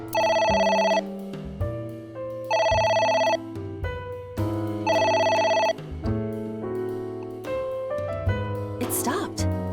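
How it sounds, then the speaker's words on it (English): Telephone in AI: The Somnium Files rings in repeated bursts of a bright electronic ringtone over a musical background, persistent and loud. "It won't stop ringing."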